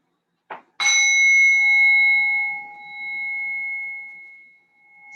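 A single struck bell closes a restorative yoga pose after a faint preceding tap, its clear tone ringing out near and loud before slowly decaying in an otherwise quiet room.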